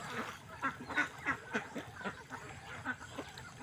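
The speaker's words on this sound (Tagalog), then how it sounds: "So, nandiyan na ang ating mga alagang itik. Papaligo muna natin sila sa kanal." Domestic ducks on a small farm near a flood-worn canal quack repeatedly in a steady, overlapping series of nasal calls at moderate distance over a soft outdoor background.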